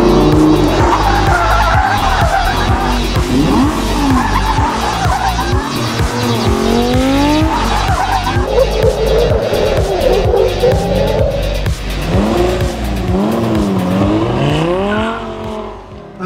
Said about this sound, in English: when you turn the key on and you start and you go and you drive the car